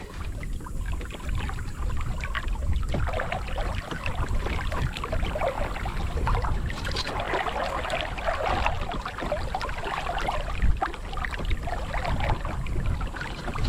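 A Walker Bay 8 sailing dinghy moves quickly through open water, with a continuous rushing wash of water along the hull and some wind noise, steady throughout and without talk.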